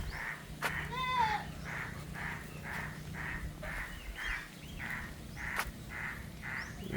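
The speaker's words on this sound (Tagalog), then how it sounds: "Ito mga kambing" Goats on flooded farmland, with a rapid series of regular short bleats from a few animals nearby and one louder bleat early on, over a low background hum.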